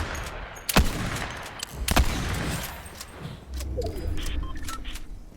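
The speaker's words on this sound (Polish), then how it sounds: "widzicie, tam są strzały" Two sharp gunshot cracks ring out a second apart in the video game Fortnite, followed by distant rumbling and scattered faint pops.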